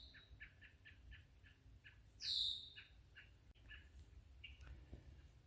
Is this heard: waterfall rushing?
no